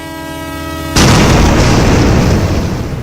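Train horn sounding at an unmanned railway crossing in Dadri, Greater Noida: a steady tonal blast cut off by a sudden loud, sustained broadband roar of the passing train.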